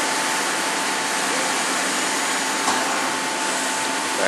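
A 2006 Doosan Puma 240L CNC lathe spindle running at 1600 RPM gives a loud, steady, broadband whir with no pauses.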